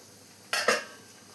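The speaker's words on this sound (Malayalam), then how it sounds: "ഇനി നമുക്ക് മൂടി ഒന്ന് തുറന്ന് നോക്കാം." A metal lid lifts off a pot of boiling curry with two quick clanks in close succession, short and fairly close, against a quiet, faint background hum.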